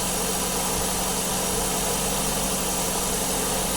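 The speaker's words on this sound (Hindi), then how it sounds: "जैसे हमने गाड़ी को स्टार्ट किया फ़ौरन स्टार्ट हो गया" A Maruti Suzuki car engine with no thermostat fitted idles steadily after starting, a loud, even mechanical hum and rumble close to the engine bay with no talking.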